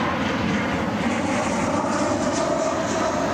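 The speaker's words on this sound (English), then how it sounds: "our third United aircraft in a row inbound" A United airliner rumbles steadily on its inbound approach at Cleveland Hopkins airport, a broad continuous jet-engine roar heard without any talk.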